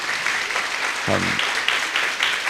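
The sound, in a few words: audience applause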